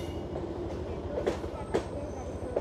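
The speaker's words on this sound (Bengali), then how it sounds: "বাংলাদেশ রেলওয়ে, এটা লাস্ট ট্রেন 12টার দিকে আসে" A Bangladesh Railway late-night train moves through a station, its wheels giving a steady rhythmic rumble with clicks over the rail joints. Faint voices may murmur underneath.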